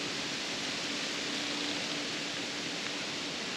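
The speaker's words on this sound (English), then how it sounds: "Hear that wind kicking up." Steady wind blowing through the Missouri woods during a deer hunt, a constant broadband rush with no gusting breaks, moderately loud and heard alone with no talking.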